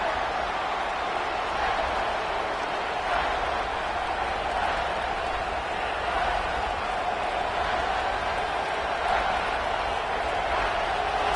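A steady roar from a packed football stadium crowd of Sooner Nation fans, a loud unbroken wash of cheering that holds an even level throughout, with no single voice standing out.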